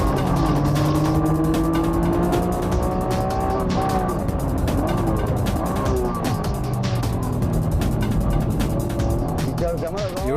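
A Honda NSX-R and a Nissan GT-R racing on a track with tight infield corners, engines roaring loudly and continuously with rising and falling revs and tire squeal, under talk.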